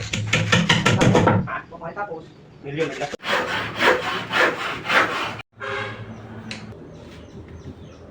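A hand saw rasps through wood in quick back-and-forth strokes, close and loud, with pauses between bursts; a voice speaks in between.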